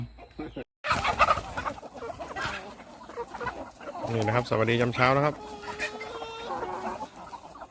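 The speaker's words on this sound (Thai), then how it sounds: "เห็นนะฮะไก่ที่มีนะตอนนี้ที่บ้านสวนนะครับ" Chickens at a rural garden farm in Mae Sariang, Myanmar border area, cluck and crow repeatedly at close range while someone speaks over them in a morning outdoor setting.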